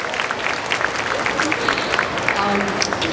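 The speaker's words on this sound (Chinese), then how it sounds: "掌声给我们同学。" An audience claps steadily in a hall for a group of students, a dense patter of many hands that carries on for a few seconds.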